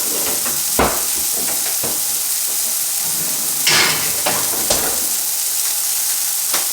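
Pork sausages frying in a pan give a steady bright sizzle throughout, with a few louder bursts of crackle and spatter, close and with no talking.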